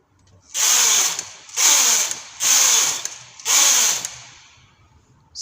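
Standard gauge knitting machine carriage swept across the needle bed four times, each pass a loud close rasping whir of about a second separated by short pauses, with no talking.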